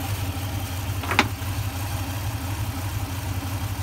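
A Toyota truck engine idles steadily and low with a rhythmic pulsing throb from the exhaust during a fuel pressure test, close and continuous, with one brief sharp click partway through.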